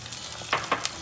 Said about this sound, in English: So it's been frying for 2 minutes.